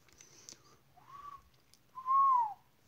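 A person attempts a whistle, managing two short, thin tones, the second one longer and louder, separated by faint breathy gaps and quiet background sounds.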